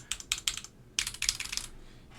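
Quick bursts of clacky keystrokes on a Matrix Labs NOOS mechanical keyboard, close and crisp, typed in two short flurries with a brief pause between and a quiet room hum underneath.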